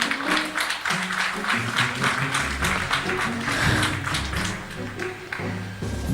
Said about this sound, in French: je vous demande d'applaudir l'arbitre international Patrick Bess.